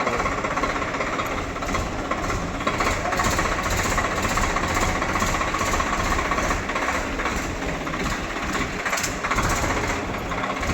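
A Swaraj 855 tractor engine runs close by, a loud, continuous diesel clatter with a rapid knocking pulse that holds steady from start to finish, with no talking.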